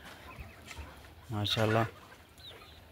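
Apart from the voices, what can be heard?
golden misri hens clucking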